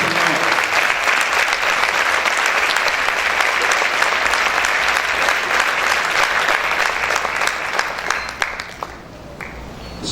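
Loud, sustained applause from a church congregation clapping for the Lord forms a dense, unbroken wall of hand claps for around nine seconds before easing off near the end.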